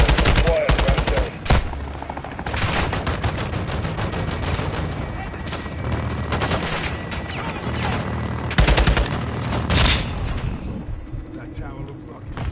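Modern Warfare 2 campaign combat with dense, loud bursts of machine-gun and rifle fire, heavy explosive blasts and booms throughout, while voices talk over the din.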